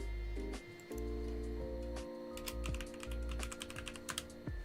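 Computer keyboard typing at a gaming desk, quick irregular key clicks over a steady low hum and background tones, close and moderately loud, no speech.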